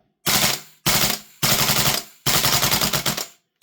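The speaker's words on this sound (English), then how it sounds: "These rifles don't need to shoot really fast on full auto" VFC L403A1 (KS-1) gas airsoft rifle firing on full auto: four loud, close bursts of rapid, fairly slow-cycling shots with brief gaps between them.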